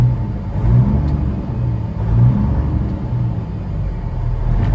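A Caterpillar C15 diesel engine in a 2013 Peterbilt 389 truck rumbles loudly and close by, its deep, steady drone swelling gently as the revs rise and fall.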